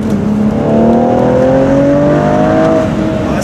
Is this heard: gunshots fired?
no